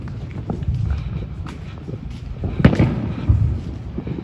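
Sharp Fourth of July firework bangs pop over a low rumbling crowd and street noise in the U.S., with a couple of louder cracks standing out near the end.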